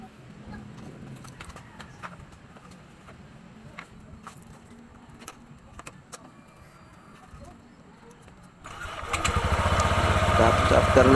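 A Honda PCX 160 scooter after a coolant change: faint clicks and handling noises come first, then the engine starts and runs loudly and steadily nearby for the final few seconds.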